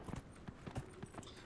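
A horse gallops in the video game Dragon Age: Inquisition, rapid rhythmic hoofbeats thudding in quick sets of strikes, moderately loud and close with no speech.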